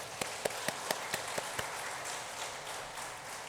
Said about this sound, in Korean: 우리 은평찬양단 격려의 박수 드리겠습니다